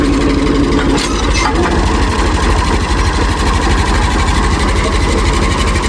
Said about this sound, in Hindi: अब इस ट्रैक्टर को पहले स्टार्ट करेंगे।